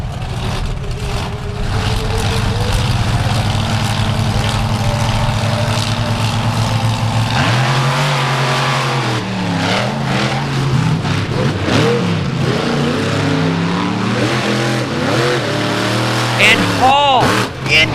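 Monster trucks Bigfoot and Raminator race at the 4-Wheel Jamboree Nationals in Indianapolis, their big engines droning and revving loudly throughout while an announcer talks over the racing.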